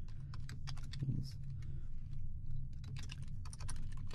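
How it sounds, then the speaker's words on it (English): Someone types HTML code on a computer keyboard in quick, irregular bursts of soft clicking, close by over a low steady hum, and no one speaks. "And we're going to type in some HTML here."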